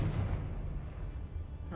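A Confringo fire spell going off in Hogwarts Legacy, a dense low rumbling blast that fills the whole moment, with a voice speaking over it.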